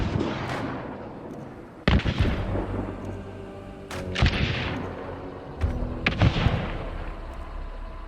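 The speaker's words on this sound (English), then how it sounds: "Shotguns sound like an explosion in gun form." Shotgun blasts in the video game Hunt: Showdown boom out as four heavy, explosive shots spaced a couple of seconds apart. Each shot carries a long rumbling tail, with no talk over it.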